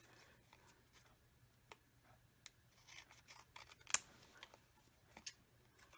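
Scissors snip through a photo for a December scrapbook page, faint and close, with scattered short cuts and light paper handling and one sharper snip in the middle.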